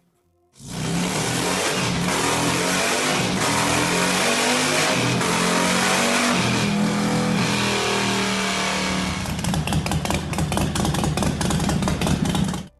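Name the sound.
supercharged Harley-Davidson motorcycles revving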